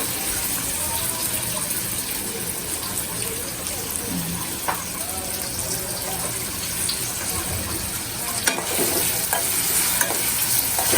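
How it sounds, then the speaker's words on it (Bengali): Onions frying in oil rendered from fried fish, with steady broadband sizzling and occasional stirring scrapes throughout, up close and fairly even in level. "মাছের শরীর থেকে যতটুকু তেল বেরোইছে পেঁয়াজে দিলাম"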